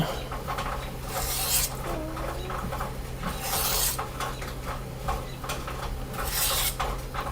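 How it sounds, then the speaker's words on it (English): Hand sanding with 320 grit sandpaper in a garage, a steady soft rasping rub that swells in repeated back-and-forth strokes, close and fairly quiet. "Now we're just going to work this 320 grit for just a bit."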